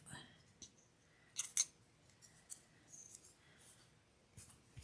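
A craft blade cuts through a paper cutout in quiet, scattered scrapes and clicks, with a brief louder cutting burst, close and faint.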